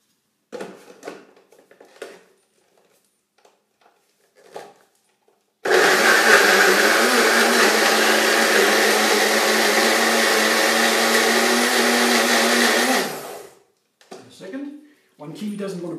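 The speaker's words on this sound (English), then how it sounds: "I will just blend it for a while, for a small while, for a moment, and I'm done." A kitchen blender whirs steadily for about seven seconds while mixing a mango and kiwi cake filling, loud and continuous, with brief talk before and after the run.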